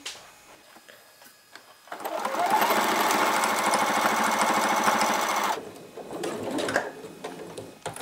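A sewing machine stitches a fabric face mask in a steady, loud, rapid whir lasting several seconds, preceded and followed by quieter handling sounds and a brief second burst.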